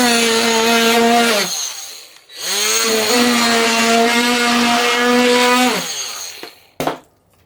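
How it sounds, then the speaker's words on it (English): A Ryobi One+ 18V cordless multi tool fitted with a saw blade makes plunge cuts, its high buzzing whine running steadily in two long bursts separated by a brief pause, with a short knock at the end. "So once again with the saw blade, we can also make those plunge cuts."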